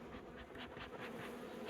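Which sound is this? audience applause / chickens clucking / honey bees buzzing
honey bees buzzing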